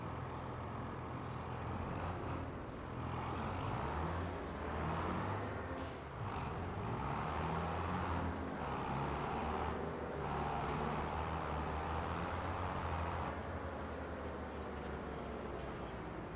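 Farm tractor in Farming Simulator 25 driving out to a field, a steady low engine drone with road rumble running throughout, with a few brief hiss-like bursts over the top and no talking.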